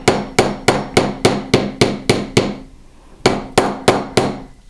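A hammer flattens a fine silver fused clasp in a run of sharp, evenly spaced metallic strikes, about eight blows, a brief pause, then four more, loud and close with no talk.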